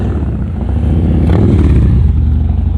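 A motorcycle engine roars loudly and builds as it approaches, the deep rumbling growl swelling to a peak before easing slightly.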